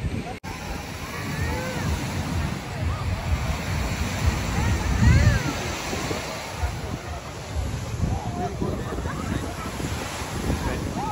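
Waves wash onto a beach in Dubai, a continuous surf roar mixed with wind buffeting the microphone, while people talk nearby.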